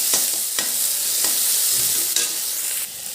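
Finely chopped onion and tomato frying in a pan, a loud steady sizzle with several sharp scrapes of a spatula stirring, no talking.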